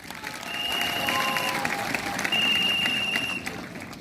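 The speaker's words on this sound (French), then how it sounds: "vous applaudissiez vous-même" Audience applauding itself at a gathering honoring King Dagbolo Saye I, sustained crowd clapping with a faint whistle-like tone and some murmuring voices mixed in.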